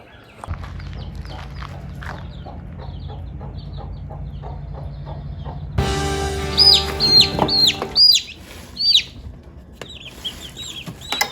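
A hen with her chicks clucks close by in a short run of sharp, rising calls, first over a steady low hum, then trailing off into a few scattered quieter clucks.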